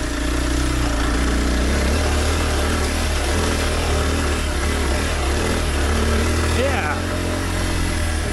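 A Kawasaki KLX 230 dirt bike pulls uphill in second gear on a trail, its single-cylinder engine droning steadily and loudly throughout with a slight rise in revs near the end.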